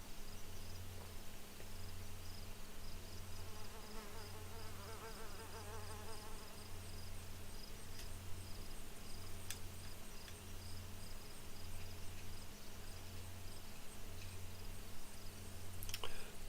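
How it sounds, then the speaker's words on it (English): Crickets chirp at night in the DayZ video game, a steady pulsing rhythm of regular bursts repeating throughout over a faint background hum. "Crickets. That's all we're hearing right now."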